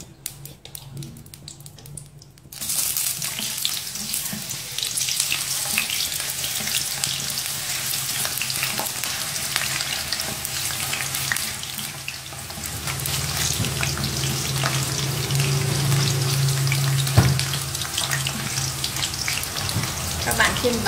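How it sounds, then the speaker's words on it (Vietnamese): Potato slices dropped into hot oil for homemade potato chips, a sudden loud, steady crackling sizzle that runs continuously for about twenty seconds after a quieter start, close and dense. "các bạn cho khoai tây vào để mình chiên"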